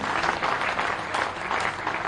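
Steady applause from a crowd at a political rally in Bhopal, welcoming a BJP leader, with dense, continuous clapping that holds at an even level throughout.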